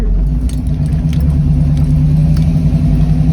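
An old Ford Mustang idles with an exhaust leak, a loud, steady low rumble close by with faint irregular ticks over the top.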